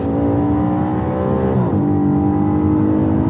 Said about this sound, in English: This engine is so responsive. It just wants to rev.